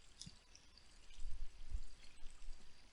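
Quiet running shower water in a dark bathroom in Resident Evil 3 Remake, a faint steady spatter and trickle with a few soft drips, heard alone.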